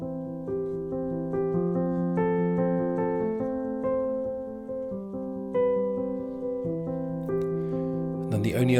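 Piano plays the verse of a song at a quicker tempo, steady repeating broken-chord notes ringing clearly and evenly for several bars, ending in a brief shuffle of handling noise.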